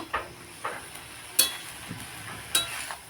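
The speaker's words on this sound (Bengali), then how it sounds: "নুন আর হলুদটা আমি সমস্ত সবজির সাথে ভালো করে মিশিয়ে নেব" Telakucha shak (ivy gourd greens) and vegetables are tossed with salt and turmeric in a pan, giving a few close, spaced spatula scrapes over a faint sizzle.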